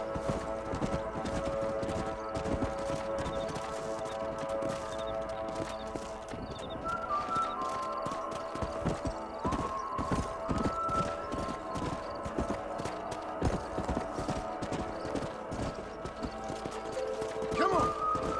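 Several horses clip-clop steadily at a trot in the video game Red Dead Redemption. The hoofbeats are fairly faint and continuous, a whinny sounds once, and speech is heard briefly over the hooves.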